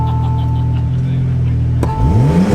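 A Porsche 992 Turbo S with a titanium exhaust idles with a steady drone, gives a sharp crack, then launches hard, its engine note rising quickly and loudly up close.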